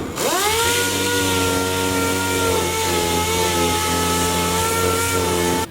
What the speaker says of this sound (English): take it down with 80 grit and our palm sander